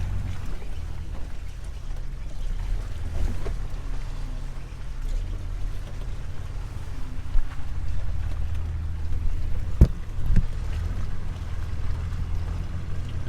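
A Jeep engine crawls in four-low first gear at 400 to 600 RPM on an off-road park trail, with no feet on the pedals. It makes a steady, deep, low chugging rumble with a few faint knocks and clunks.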